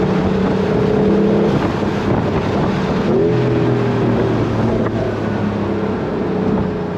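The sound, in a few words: Porsche 911 Carrera GTS T-Hybrid engine accelerating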